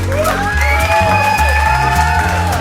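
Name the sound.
audience applause and cheering after a comedy show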